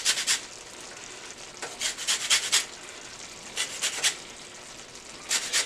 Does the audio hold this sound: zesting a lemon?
yes